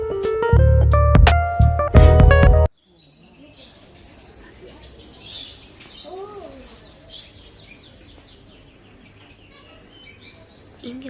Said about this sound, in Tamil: இங்கே பார்த்தீங்கன்னா எல்லா பறவையும் வச்சுருப்பாங்கங்க